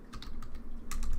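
Quick, irregular keystrokes clatter close by as Python code is typed on a computer keyboard, with a denser flurry of keys near the end and no voices.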